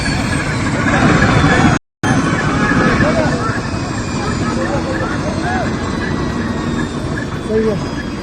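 A helicopter hovers in the air near Kedarnath, narrowly avoiding a crash, its steady broadband engine and rotor roar filling the scene while people shout and talk excitedly over it.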